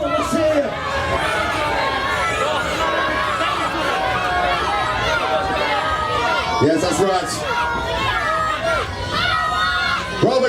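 A wrestling crowd of children shouts and cheers, a dense, steady roar of many voices filling a hall with brief louder swells, while a voice speaks briefly over it.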